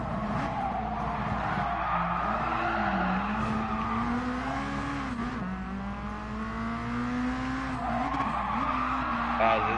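Racing game car sliding and skidding, its engine droning with a wavering pitch and tires squealing continuously; a voice talks over it throughout.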